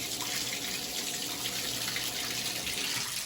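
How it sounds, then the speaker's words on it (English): Warm water runs steadily from a tap, rinsing trumpet parts under the stream; a continuous close hiss and splash with no pauses. "I'll just wash that out with some warm water."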